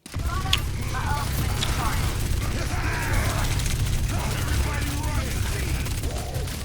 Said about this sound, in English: listen to how consistent the crit shots are when he goes for the body shots